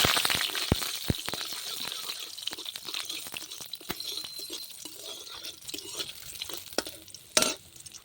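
Curry leaves and garlic fry in hot oil, giving a steady close sizzle and crackle with sharp pops and spoon clinks against the pan throughout.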